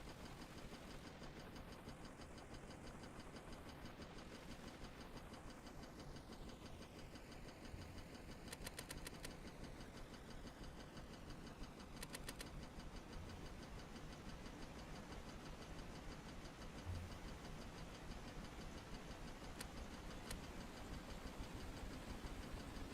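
A boat engine in the video game Stormworks runs at a steady, low drone, faint and constant throughout with a few brief clicks and no talk.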